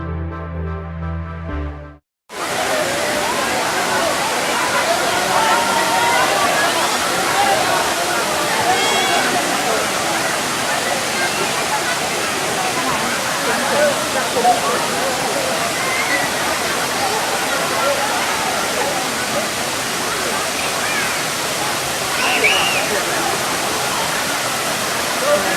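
Steady, loud rush of Erawan waterfall in Kanchanaburi, Thailand, pouring continuously, a dense roar of splashing water that fills the whole span after a brief moment of other sound.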